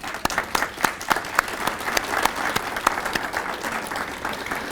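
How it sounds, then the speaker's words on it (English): Audience of volunteers at a community breakfast applauding, dense steady clapping with sharp individual claps standing out, fairly close and sustained throughout with no talking over it. "I'd like to offer you my personal heartfelt applause."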